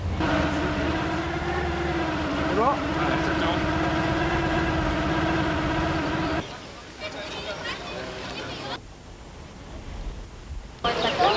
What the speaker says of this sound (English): going to the station to ride up the mountain on the cog railway